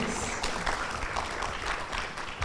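An audience at a sustainable building symposium applauds its panelists: a steady, dense wash of clapping throughout, with no gaps.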